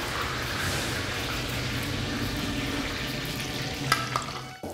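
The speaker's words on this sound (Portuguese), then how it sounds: "Agora eu vou fritar as batatas." Potatoes sizzle steadily in a frying pan for a salt cod and cream dish, a continuous close crackle with a few brief clinks near the end.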